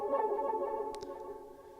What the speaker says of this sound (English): So just a nice little ARP